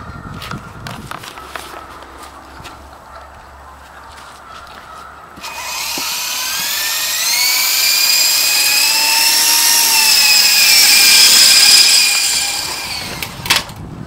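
A small toy helicopter flies low over a corn field, its rising, whining rotor and motor building from about five seconds in and holding steady and close before fading near the end; earlier there are only faint rustling and footstep-like sounds.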